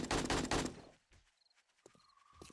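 Rapid gunfire aimed at zombies in the survival game 7 Days to Die, a loud burst of quick shots up front that fades into quieter scattered sounds.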